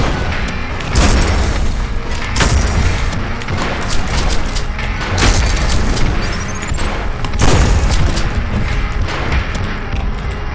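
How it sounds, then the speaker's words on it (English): An enemy blows up during fast Ultrakill combat: loud booming explosions and crashing impacts repeat every second or two over a dense, constant wash of gunfire and game noise. "that guy's gonna explode"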